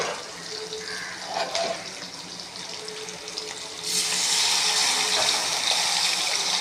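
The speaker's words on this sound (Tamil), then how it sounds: "இப்போது புளி கரைசலை ஊற்ற போகிறோம்." Tamarind and chili powder solution pours into a simmering pot of egg curry, a soft trickle that swells into a steady, louder gushing splash partway through, with no talking.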